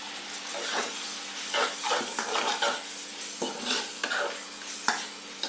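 Fish and flat beans stirred in a pan with turmeric and salt: rhythmic spoon scrapes and clatters against the pan over a continuous bright sizzle, up close and with no talking.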